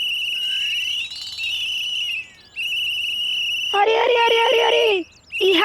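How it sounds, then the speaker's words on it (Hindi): A sleeping person snores with a high whistling tone: long steady whistles repeat with short gaps, then give way to a rougher, buzzier burst before the whistle returns. The sound is loud and close. "सीटी की आवाज में खराटे काहे ले रहा है?"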